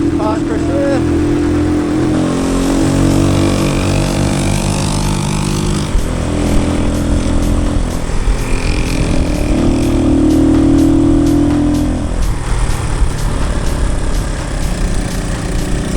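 Keeway CR152 motorcycles ridden on an adventure trail in New Zealand, the engine droning and shifting pitch as it accelerates and eases off, with wind buffeting and a voice talking over it.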